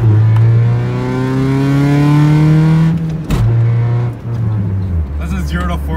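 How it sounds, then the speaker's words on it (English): A Honda car accelerates from a standstill to 40 mph, its engine note climbing steadily through the gears with a brief break near the middle, loud and close throughout. "This is 0 to 40. This shows how slow a Honda is."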